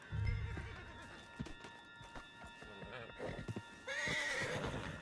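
A horse in the Red Dead Redemption 2 video game neighs loudly, then hooves clip-clop at a gallop over ambient game sounds, ending in another whinny, fairly close.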